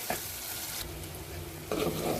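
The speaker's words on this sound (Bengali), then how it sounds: "মশলাগুলো কষাচ্ছি, তখন ভেজে নিচ্ছি মশলাটা, এখন কষিয়ে নিচ্ছি।" Spice masala fries in oil for a beef tripe dish with a dense, close, continuous sizzle and hiss that swells louder toward the end as the pan is stirred.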